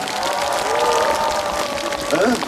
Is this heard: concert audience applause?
yes